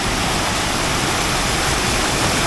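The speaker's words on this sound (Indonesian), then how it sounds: "aliran sungai kecil seperti ini" A small river stream flowing near a tunnel on a cave path, giving a steady, dense rush of water that holds at full level throughout without breaks and with no voices.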